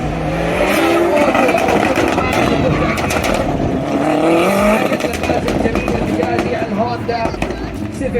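A Honda Civic race car competing in the G2 class at a Saudi time attack event in Jeddah roars steadily and loudly with engine and track noise, nearly continuous, while an announcer's voice runs underneath.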